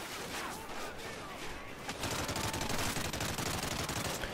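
Dense automatic gunfire in the shooter Call of Duty Ghosts, a continuous rattling barrage that holds steady and grows a little louder partway through.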